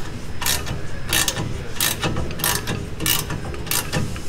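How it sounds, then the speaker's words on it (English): A mini ratchet wrench clicks in quick bursts, with about six short ratcheting strokes spaced evenly apart, close and crisp over a low background rumble. "Mini ratchet? Yep."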